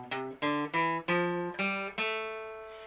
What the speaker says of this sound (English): And if I play the scale of A aeolian, it sounds like this.